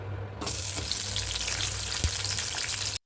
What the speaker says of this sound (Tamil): எண்ணெய் ஊற்றிக்கலாம். 2 வெங்காயம் கட் பண்ணி வச்சிருக்கேன். வெங்காயம் போட்டுக்கலாம்.